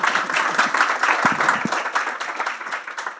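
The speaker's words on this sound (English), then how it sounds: "a massive round of applause for our panel and our moderator" An audience at an events industry panel session gives a dense, sustained round of applause for the panel and moderator, steady and fairly loud throughout.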